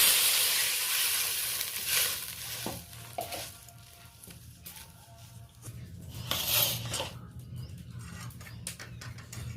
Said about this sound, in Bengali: কড়াইতে কিছুটা পরিমাণ আমি জল দিয়ে দিই